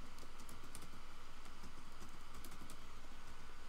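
Command typed on a computer keyboard in a MySQL command-line session, quiet rapid key clicks in a busy, uneven rhythm over faint background hiss.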